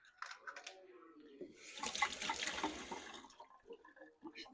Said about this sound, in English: Wash the hands.